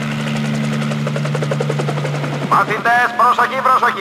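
A cartoon helicopter drones with a steady low rotor hum and rapid chopping pulses, then gives way to a voice shouting over it.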